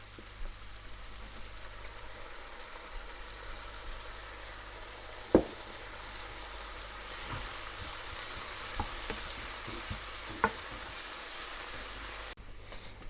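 Food sizzles steadily in a hot pan, a continuous crackling hiss with a few sharper pops and clinks of a utensil.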